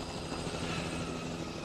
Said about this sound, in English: Whoa, there's a chopper.